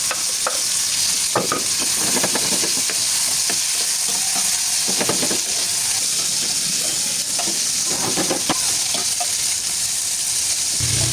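Eggs and bitter melon fry in a hot pan, giving a steady hiss and sizzle with repeated scraping and stirring strokes of a utensil, close and continuous, with no voices.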